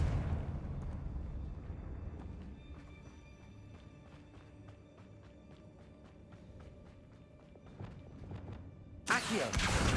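Confringo blasting spell in Hogwarts Legacy: a deep rumbling blast fades out at the start, a rhythmic clattering tail follows, and a sharp bright burst hits near the end.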